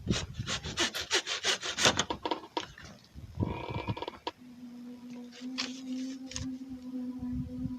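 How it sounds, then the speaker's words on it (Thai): A saw rasps in quick, rough strokes in a horror video game, the strokes loud and rhythmic at first, then giving way to a steady hum and scattered faint noises. "มันต้องใช้เลื่อยเปล่าวะ"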